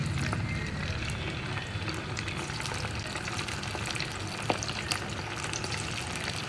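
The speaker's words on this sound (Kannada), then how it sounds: "ಈಗ ಸಿಗಡಿ ಫ್ರೈ." Prawns frying in a pan for a Tulunadu-style fish meal, a steady close sizzle and crackle with small pops and spatters throughout, no voices.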